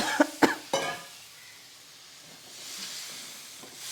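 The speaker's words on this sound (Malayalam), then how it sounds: "ഈ മുളക് പൊടിയുടെ കുത്തൽ കൊണ്ടേ നമ്മൾ ചുമയ്ക്കും." A person coughs from stinging chili powder fumes while cooking a Kerala ginger curry with tamarind water; three sharp coughs come close together at the start, then a soft, steady hiss of the pan takes over.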